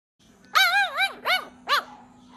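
A wild, hungry dog lets out three clear barks in quick succession, the first drawn out and the next two short, close and loud against an otherwise quiet background.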